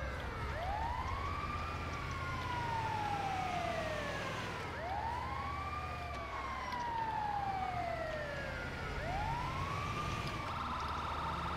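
Ambulance siren in GTA V, a wailing tone that sweeps up and down in long repeated cycles of about four seconds, fairly faint over a low engine hum.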